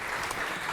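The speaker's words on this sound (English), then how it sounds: "Give them a warm applause" Audience applause for two guest speakers at a university discussion event, a brief burst of steady clapping at moderate volume.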